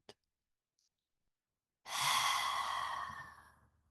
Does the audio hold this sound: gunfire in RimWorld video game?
no